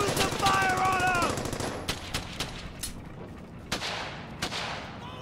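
Gunfire in the World War II video game Brothers in Arms: Hell's Highway, a rapid machine-gun burst followed by scattered single shots and short bursts at mid distance, with a voice and tonal effects underneath at the start.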